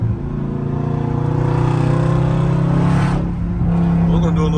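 Dodge SRT running on E85 in track mode, engine note dropping through a sustained harmonic drone as it downshifts while slowing, with a brief dip and a loud near-constant exhaust roar under a voice talking.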